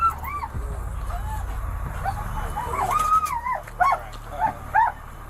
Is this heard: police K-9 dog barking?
yes